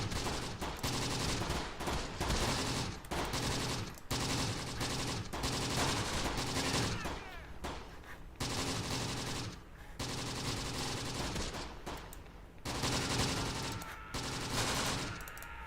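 Gunfire in the World War II strategy game Close Combat: The Bloody First, dense bursts of rifle and machine-gun fire crackling almost nonstop with brief gaps, loud and close throughout.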